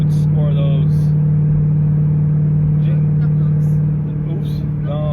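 A C6 sports car engine with resonators installed drones steadily with a deep, constant exhaust rumble, loud and close, while people talk over it.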